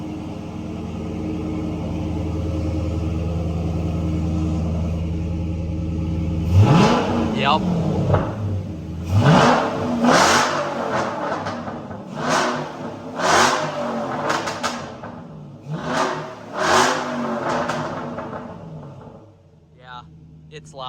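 A Dodge Challenger with a 6.1 Hemi V8 and a Spectre cold air intake revs repeatedly after idling, about six loud throaty blips rising and falling, close by, with a brief word spoken.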